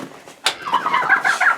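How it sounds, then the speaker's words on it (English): Young laying-hen chicks, fifteen of them in a farm pen, cluck and peep in a busy, continuous chorus with a sharp louder call near the start, close and fairly loud with no talk over them. "So first we have our baby chickens that are in here."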